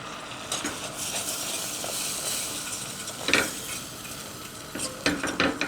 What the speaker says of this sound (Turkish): Yağımız erince içine bir su bardağı unumuzu ekliyoruz ve karıştırıyoruz.